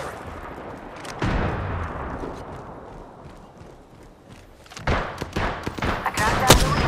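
Gunfire in the video game Apex Legends, a scatter of sharp shots with a denser burst of rapid cracks near the end, set against steady game background noise.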